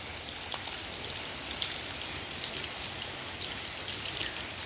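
Heavy rain falls steadily with wind, a dense continuous patter of drops on surfaces with scattered louder splashes and a constant hiss, no voices.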